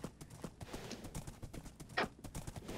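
A horse's hooves clip-clopping in Minecraft, a quick steady trotting rhythm of soft clicks running throughout, moderately close and alone.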